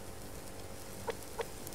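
Chickens cluck faintly in the survival game Subsistence, two short clucks about a third of a second apart near the end over a steady background hiss.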